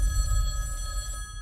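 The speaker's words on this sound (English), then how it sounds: "that phone over there is gonna ring" Telephone bell ringing in a film trailer, a bright, sustained ring over a low rumbling score, fairly close and loud.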